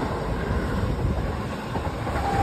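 A slow train passes close by near a station, giving a steady rumbling roar with faint rail rattle throughout.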